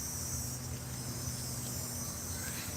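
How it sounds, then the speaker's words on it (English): Cicadas buzz outdoors on a summer day in a steady, high, droning chorus that holds constant throughout, with a faint low hum underneath. "while the cicada bugs tell me they're here"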